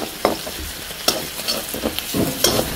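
Onions sizzle softly in a pan while a spatula scrapes and stirs in irregular strokes, close and moderately loud.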